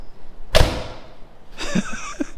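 An air-cooled Porsche's car door shuts with a solid thud, followed by quieter clicks and a faint movement sound; no talking.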